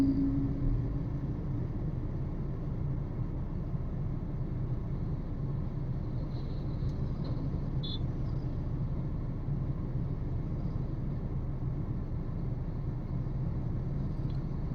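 Steady low engine rumble and road noise from inside a Mahindra Thar Roxx crawling in a traffic jam behind a tanker, continuous and even throughout with no talking.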